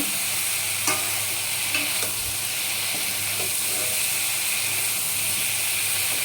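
Fried potatoes and soybean chunks stir-fried in oil in a pan: a loud, steady hissing sizzle throughout with a few faint spatula knocks, close up and without voices.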